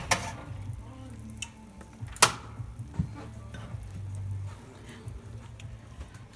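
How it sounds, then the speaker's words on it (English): A pot of mushroom soup with yam comes up to a boil, giving soft, irregular bubbling pops and faint sizzling patter close by, with a few sharper ticks scattered through. "it's coming to a boil"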